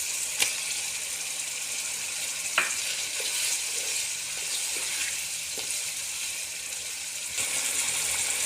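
Tomatoes go into sizzling chicken keema pulao, keeping up a steady, moderate frying hiss with a few faint clicks and spoon knocks, and no one speaking.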